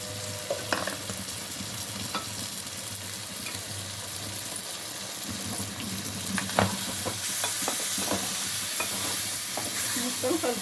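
Chicken curry with yogurt being stirred in a hot pan, a steady sizzle broken by repeated spoon clacks and scraping against the metal, no one talking.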